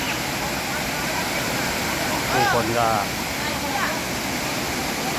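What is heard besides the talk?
waterfall rushing water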